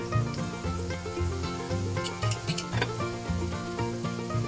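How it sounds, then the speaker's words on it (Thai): Pork wontons deep frying in hot vegetable oil over medium-low heat, a continuous crackling sizzle heard beneath background music. "ทอดน้ำมันร้อนไฟกลางค่อนอ่อนค่ะ ก็ใส่แผ่นเกี๊ยวลงไปนะคะ"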